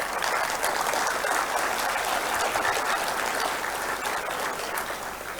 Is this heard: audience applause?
yes